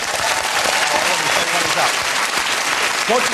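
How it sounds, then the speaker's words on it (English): Steady applause from an audience fills the clip, dense and sustained, with voices and cheers mixed faintly into the clapping. "A round of applause for the tattoo, ladies and gentlemen."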